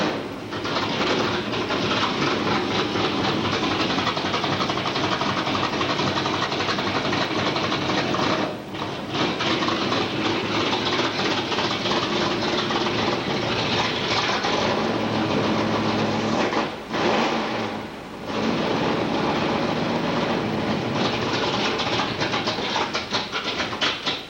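Loud, continuous roar of a car engine through side exhaust with 4-inch pipes and no mufflers, idling and revving steadily close by, with two brief dips in level, no talk over it.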